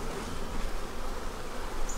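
Honey bees buzz around an open hive during an inspection in a bee yard, a dense, steady drone close by with no talking over it.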